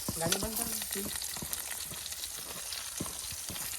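Garlic and ginger paste fries in a pan outdoors, producing a soft, continuous sizzle with scattered crackles and faint clinks, and no one speaks over it.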